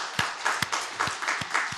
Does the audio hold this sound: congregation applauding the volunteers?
yes